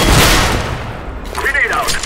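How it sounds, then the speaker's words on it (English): A flashbang grenade detonates in Counter-Strike: Global Offensive, a loud burst at the start followed by a ringing, warbling tone that rises and falls near the end. "Grenade out! Deploying flashbang!"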